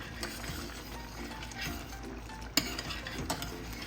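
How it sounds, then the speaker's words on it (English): Steady bubbling and sizzling from a boiling pot of pork and beans with smoked sausage, with a spoon stirring and a sharp clink against the metal partway through. "our pot is boiling. And it definitely is. I'm going to give it a stir."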